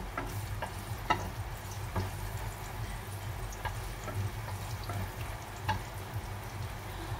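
Fresh spinach cooking in a pan, a steady soft sizzle with occasional scrapes and taps of stirring, close and fairly quiet, no voices.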